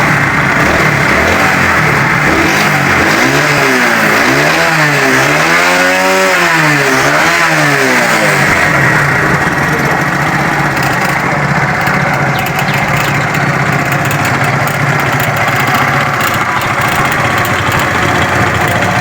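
A motorcycle under repair for a headlight fuse fault revs up and down in a few loud rising and falling swells, then settles into a steady, close idle.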